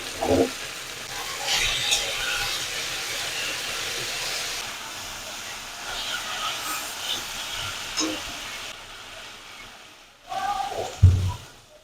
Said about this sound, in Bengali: ঝিঙাগুলোকে তেলের উপরে কিছুক্ষণ একটু ভাজার পরে আমরা এর মধ্যে জল দিয়ে দিচ্ছি